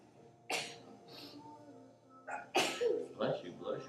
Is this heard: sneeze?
yes